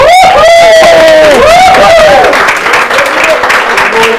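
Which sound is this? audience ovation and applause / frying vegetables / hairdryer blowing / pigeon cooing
audience ovation and applause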